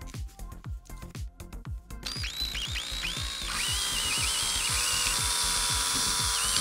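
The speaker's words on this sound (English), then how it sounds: "with a drill bit the same size as the straws to make the holes through the bottle caps" A power drill whirs in short repeated bursts, then runs steadily as the bit bores holes through plastic bottle caps; close and fairly loud, with no talking.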